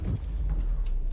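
Keys jangle in the horror video game DARQ, a brief close metallic rattle over a steady low ambient drone, with no talk.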